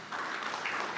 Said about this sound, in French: C'est donc Monsieur Yves Faufier que j'invite sous vos applaudissements